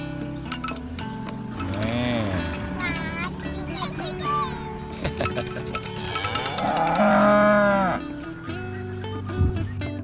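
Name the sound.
young water buffalo mooing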